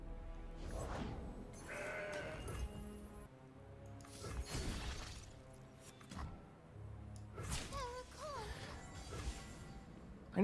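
Goat bleats in the card game Legends of Runeterra: several wavering, nasal cries at a moderate level, mixed with game effects and a crash, with quiet talk underneath.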